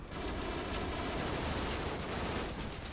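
Dense, rapid gunfire fills the stretch in a Call of Duty: Modern Warfare Reflex free-for-all match on the Wet Work map. The shots run together into a steady, loud rattle with no talking.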